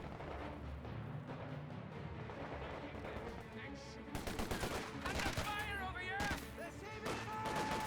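Gunfire from the World War II strategy game Company of Heroes 2, with bursts of rifle and machine-gun fire around a Kübelwagen that grow louder and denser, mixed with game effects throughout.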